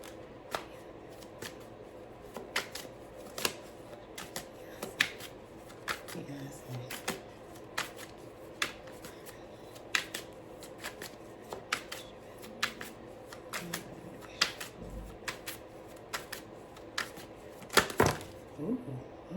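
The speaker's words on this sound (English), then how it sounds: "before I finish shuffling for Beyonce" Tarot cards are shuffled close up, with repeated crisp riffling snaps and soft slides in an irregular rhythm over a quiet room, and a faint voice now and then.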